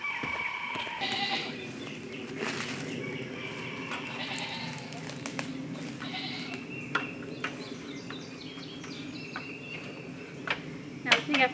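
Goats bleat now and then inside a backyard goat pen, short calls rising over a steady low rustle of outdoor ambience, with a few brief sharper noises near the end.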